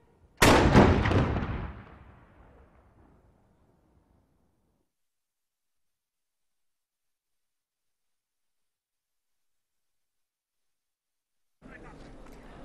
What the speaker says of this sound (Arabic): مدفع ثاني جاهز، ارمي